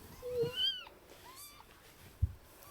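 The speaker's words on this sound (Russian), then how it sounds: "И сейчас мы покажем вам маленьких котята." A small kitten gives a few thin, rising and falling meows, fairly close and soft, separated by short pauses, followed by a brief low thump.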